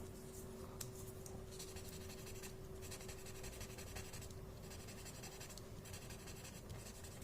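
Graphite pencil shading on paper for a Zentangle drawing: a steady, soft scratchy rubbing that runs continuously and close, with a faint constant hum underneath and no talking.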